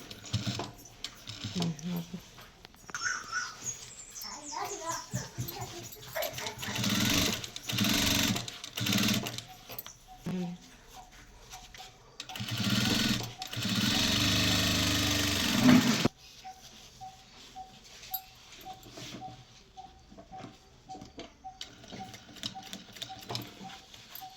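A sewing machine top-stitches a handbag, running in several bursts of rapid mechanical whirring and stitching that start and stop, close and fairly loud, with a person talking between and over the runs.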